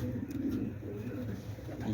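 Flying pigeons, including Sherbati, Grizzle, Black Tiger and Jogi breeds, coo softly and continuously at close range, a low, throaty murmur with no voices.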